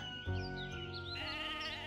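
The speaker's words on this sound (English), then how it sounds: "let's find a different sheep" A sheep in the online game Mabinogi gives a clear bleat over soft, continuous tonal game music, with no talking.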